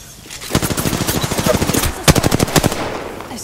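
Rapid automatic gunfire in Rainbow Six Siege: a long burst of close, loud shots, a brief pause, then a second shorter burst, with no voices over it.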